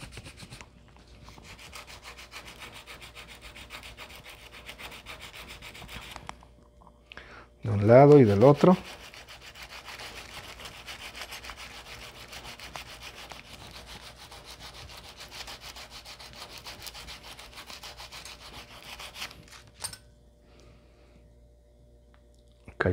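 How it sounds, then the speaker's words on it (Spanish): Sandpaper rubs against a wooden branch being shaped into a large crochet hook, a soft rhythmic scratching throughout with one louder close burst in the middle; a person speaks briefly. "Entonces vamos a lijar bien,"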